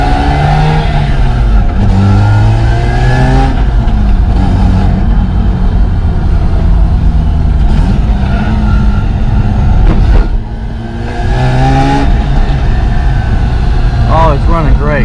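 A Mazda RX8 engine runs after a transmission and clutch replacement, revving up and down in repeated loud, close sweeps with brief dips between them.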